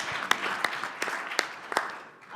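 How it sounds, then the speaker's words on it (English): Applause from a conference audience, a steady crowd clapping texture with a few sharper claps standing out, moderately loud and continuing for the whole moment. "So can we give a round of applause for all the allies out there"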